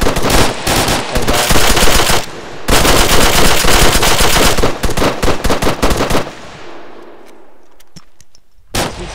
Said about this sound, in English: So you have to shoot to something.